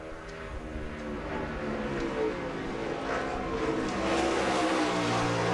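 Stock car engines roar continuously through road-course turns 10 and 11 during NASCAR Nextel Cup qualifying for the 2007 Save Mart 350, loud and steady with rising revs toward the end.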